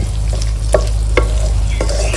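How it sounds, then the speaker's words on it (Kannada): Egg stir-fried in a hot pan for egg rice sizzles loudly and steadily, with a few quick scrapes of the spatula cutting through, close and without voices. "ಈಗ ಮೊಟ್ಟೆ ಇದು ಅರಳ ಆಗಬೇಕು, ಅಲ್ಲಿವರೆಗೂ ಹುರ್ಕೋಬೇಕು ನೋಡಿ."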